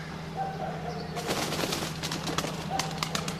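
A pigeon bursts out of a bush close behind, with a flurry of wing flaps and a low coo over quiet outdoor rural background.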